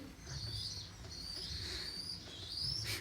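Domestic pigeons kept in a box coo and call in soft, repeated murmurs, close and moderately quiet, with a faint rustle near the end and no talk.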